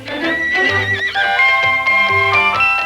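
A horse at Disneyland in 1957 neighs loudly and repeatedly, its shrill whinnies rising and falling over a few seconds, close by, with faint hoof clops beneath.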